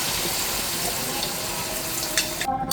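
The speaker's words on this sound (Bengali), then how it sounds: "এই পর্যায়ে জলটা দিয়ে দিচ্ছি" Water pours into a hot pan of eel fish and bean curry, a steady rushing splash and sizzle that cuts off abruptly near the end.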